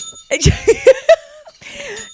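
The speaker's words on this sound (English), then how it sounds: "The bell says ring for a hug, and so every time you'll hear the bell, it means someone has asked for a hug." A bell rung as a request for a hug gives a few quick bright rings at close range, mixed in with bursts of voices and laughter.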